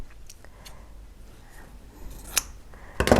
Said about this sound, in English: just take my scissors and cut across